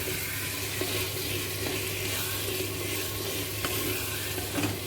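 Bottle gourd with black chickpeas is stirred in a cooking pan, giving a steady, close sizzling hiss with faint scraping and shuffling of the spoon throughout, and no voices.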